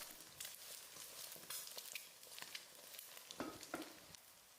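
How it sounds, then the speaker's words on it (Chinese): Eggs sizzle and crackle in hot oil, a steady bright frying hiss with small pops, fairly faint and with no voices. "锅中油热，倒入鸡蛋"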